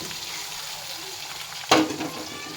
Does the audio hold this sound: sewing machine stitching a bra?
no